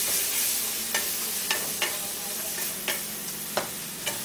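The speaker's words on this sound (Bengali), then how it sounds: "ভালো করে এটাকে এই পেঁয়াজ লঙ্কা রসুনের সাথে মিশিয়ে নিচ্ছি।" Pointed gourd pieces being stirred in a pan with onion, chili and garlic: a steady soft sizzle with several scraping strokes of a spatula at irregular intervals, close and moderately loud, no talking.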